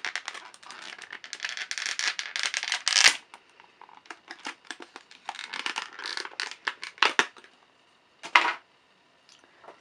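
Plastic packaging for a Disney Infinity Elsa figure being handled and opened up close, with irregular bursts of crinkling, rattling and clicking, sharper snaps and pauses between them, and no voices.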